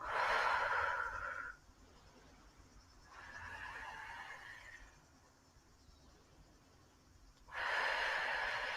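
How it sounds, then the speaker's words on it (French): Slow, gentle breathing during a lying-down yoga session, with three long airy exhalations separated by quiet pauses, close and soft. "Et on vient respirer doucement."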